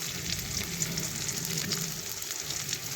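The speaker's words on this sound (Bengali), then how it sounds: "আলুর সাথে মিশিয়ে নিলাম একটু ভাজা হওয়া পর্যন্ত আমি অপেক্ষা করে নিচ্ছি" Potatoes sizzle steadily in hot oil in a pan after turmeric and salt are added, for a spicy katla fish curry with potatoes; the frying crackle is close, even and continuous, with no talking.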